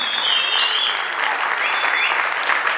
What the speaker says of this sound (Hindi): अरे दिल से सीटियां और तालियां बजा लो